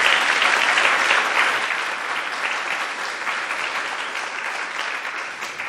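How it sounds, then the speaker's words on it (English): Sustained audience applause at a free community talk on creating natural 3D environments, a dense, even wash of many hands clapping that stays loud and steady throughout before easing slightly toward the end. "So I think we should have a big round of applause for that first."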